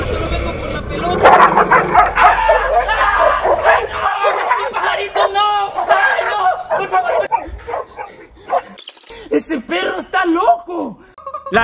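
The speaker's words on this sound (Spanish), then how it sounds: "¡Ay, qué bonito el perrito!" Small dog yipping and barking in short bursts, close by, mixed with lively talk from a voice throughout.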